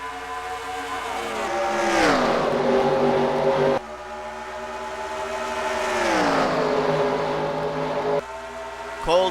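Race cars roar off at the green flag in a racing video game at Auto Club, engines climbing in pitch as they accelerate, then sweeping down as the pack passes, a loud continuous drone repeating twice.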